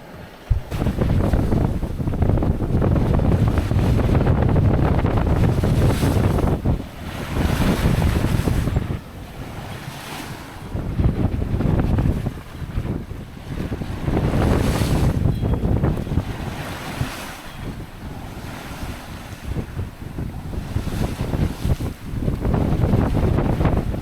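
Out at sea between Union Island and Bequia in the Caribbean, a sailboat runs through rushing waves and gusting wind that buffets the microphone in loud surges and brief lulls, with no voices heard.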